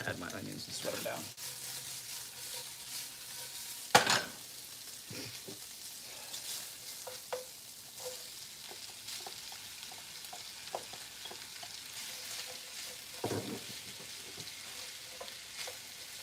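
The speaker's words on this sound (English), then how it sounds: "I'm going to add my onions and sweat them down." Onions sweating in a large frying pan give off a soft, steady sizzle with light stirring and scraping, a sharp clatter near four seconds, and faint talk over the top.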